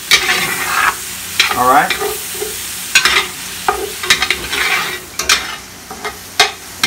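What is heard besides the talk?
stirring and scraping a frying pot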